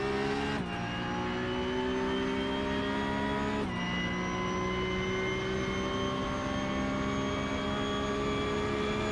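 A Porsche Cup race car laps Le Mans in the iRacing sim, its engine a loud, steady high-revving drone with two brief dips for gear shifts, heard alone without commentary.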